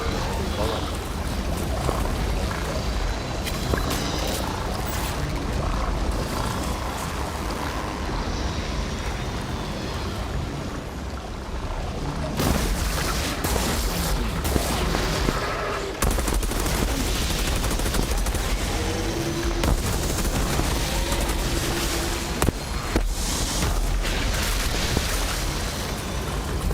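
Continuous heavy gunfire and explosions in the looter-shooter video game Outriders, dense and loud throughout with rapid shots layered under someone talking over the action.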